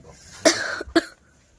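A person nearby with a cold on a chilly night lets out two quick coughs, the first longer and rougher, with faint background noise around them.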